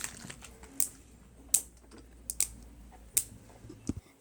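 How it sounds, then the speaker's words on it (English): Wacky track fidget toy being snapped and clicked: a handful of sharp, crisp plastic clicks at irregular intervals, close and fairly quiet, over a faint background. "this is a wacky track. I'm gonna make it into a snapper"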